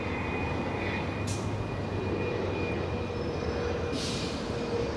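Gulfstream 280 business jet at Los Angeles International Airport, heard as a steady broadband engine roar throughout, fairly distant and even, with no talking.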